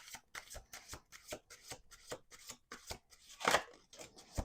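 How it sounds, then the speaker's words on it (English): A deck of tarot cards riffled and shuffled in quick repeated bursts, crisp papery flutters close by with brief pauses between, no talking. "Okay, 1 more shuffle."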